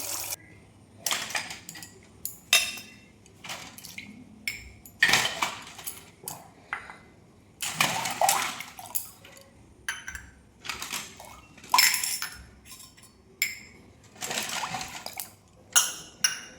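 Metal puja utensils being washed with water, irregular bright clinks and clatters of metal knocking together, with short splashy pauses between, close and without voices.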